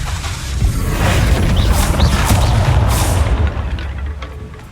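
An exploding barrel set off by a Confringo spell in the game Hogwarts Legacy, a loud, deep rumbling blast with crashing debris that fades out over several seconds.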